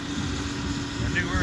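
A tractor engine rumbles in a steady, continuous low drone while it rips a field before corn planting. It stays at an even loudness throughout.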